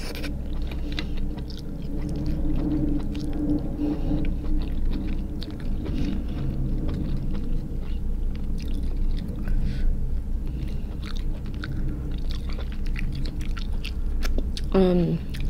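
Close-up chewing and crunching of giant B.C. crab, with steady wet mastication sounds throughout and a brief high chime near the end.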